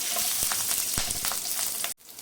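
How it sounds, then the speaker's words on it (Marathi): Cumin seeds, green chillies, an inch of ginger and ten garlic cloves sauté in a spoonful of hot oil in a pan, giving a loud, steady close sizzle with a few sharp crackles and spatula taps, cutting off abruptly near the end. "पॅनमध्ये एक चमचा तेल गरम करत ठेवले त्याच्यामध्ये अर्धा चमचा जिरं त्याच्यानंतर मिरच्या आलं एक इंच दहा लसूण पाकळ्या हे थोडंसं छान परतून घ्यायचं"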